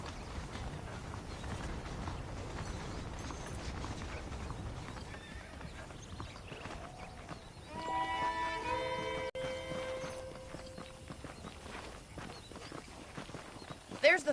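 Horse hooves clip-clop at a steady riding pace in the Red Dead Redemption video game, with a whinny partway through and a music sting, heard under a voice talking throughout.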